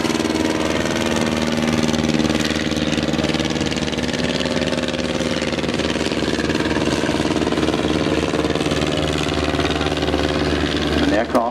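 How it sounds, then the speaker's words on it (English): An SE-5 biplane lifting off at the Shoreham airshow, its engine droning loud and continuous throughout with a rough, steady pulse, close by and alone. "There's an SE-5 just lifting off now."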